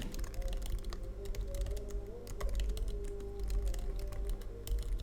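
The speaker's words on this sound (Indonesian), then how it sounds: "Magic Keyboard yang feel mengetiknya ini enak, empuk banget" Steady, rapid keystrokes on a MacBook Air M1 keyboard, soft and close, with a continuous clatter of overlapping taps and no pauses.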